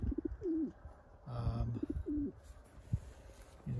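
Racing pigeon, a blue cock yearling, cooing in repeated soft low phrases, close by, with a few faint chirps and rustles between calls.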